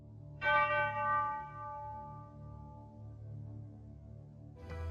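Church bells from Disney's Fantasia ring out in a single loud, resonant strike whose rich tone decays slowly over several seconds above a low orchestral drone, with a fresh strike starting at the very end.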